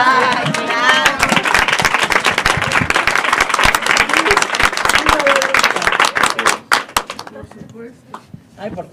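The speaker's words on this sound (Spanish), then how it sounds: "Quiero pedir un aplauso para don Lucho." Loud, lively applause from the audience at a book presentation, with voices and cheering mixed into the clapping early on, then fading into scattered individual claps and quiet chatter toward the end.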